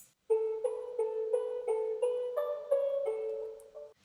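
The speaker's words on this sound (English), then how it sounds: "So the preset for the ARP is a preset that I found on Serum." A Serum preset synth arpeggio for a future bass track plays a bright run of evenly spaced plucked notes, alone and clear, stepping upward near the end.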